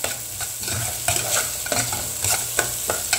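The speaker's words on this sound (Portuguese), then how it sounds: "Refogando aqui o nosso tempero." Garlic and seasoning sauté in a pan, a steady close sizzle under rhythmic scraping stirs that come every half second or so, with no talking.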